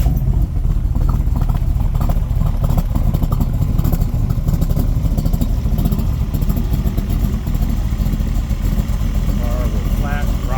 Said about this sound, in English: You see how easily this car starts.